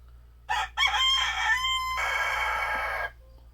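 A rooster crows loudly and close by near a chicken coop, one full drawn-out cock-a-doodle-doo lasting about two and a half seconds over a faint low hum, with no talking.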